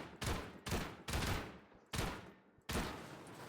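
Gunfire in a video game hammers at a wall in four loud, sustained bursts separated by short gaps, close and heavy, with no voices.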